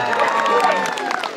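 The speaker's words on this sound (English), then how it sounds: "A round of applause." Crowd of onlookers cheering and clapping for a sled dog team in Alaska, a brief burst of close applause with excited shouts and voices.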